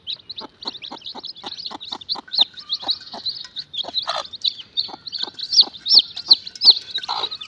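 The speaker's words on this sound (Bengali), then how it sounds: "মুরগির বাচ্চা লালন পালন করি।" Native hen clucking with her chicks, a steady run of short, close clucks layered under dense high peeping from the brood.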